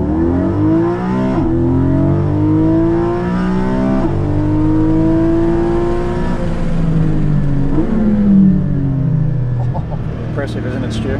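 A 2021 Porsche Cayman GT4 with PDK gearbox and exhaust baffles open revs hard through the gears, its engine note climbing and dropping in several sweeping pulls, loud and close from inside the cabin.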